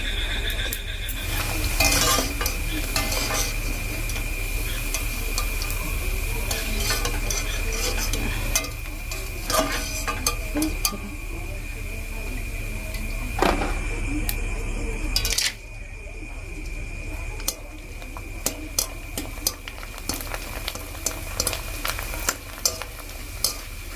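Badminton chips frying in hot oil over a lowered gas flame make a steady, close, broadband crackle with stirring clatter, continuous throughout with a brief dip partway and light voices occasionally underneath.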